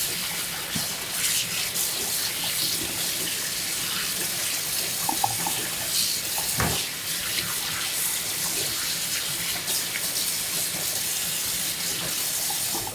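Tap water runs continuously in a kitchen sink while a gutted cod's belly cavity is rinsed, a constant splashing rush with small shifts as the fish moves under the stream.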